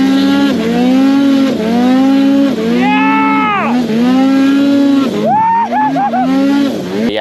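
Loud, high-revving snowmobile engine with a throaty GGB aftermarket exhaust, pitch rising and falling repeatedly as the throttle is worked, close to the microphone.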